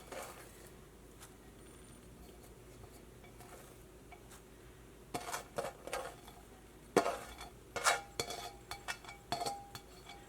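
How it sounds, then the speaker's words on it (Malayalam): Salad vegetables being mixed with chicken in a bowl: quiet at first, then a series of clinking, scraping utensil strikes against the bowl in irregular bursts, close and with no talking. "അപ്പോൾ ഇതെല്ലാം കൂടിയിട്ട് നമുക്ക് ചിക്കൻ്റെ കൂടെ മിക്സ് ചെയ്യാം"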